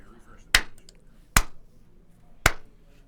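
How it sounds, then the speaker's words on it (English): Three sharp single hand claps, well spaced and close to the listener, each ringing briefly in a quiet room during a livestream clap test. "I'm going to try a clap test on my end before we get going"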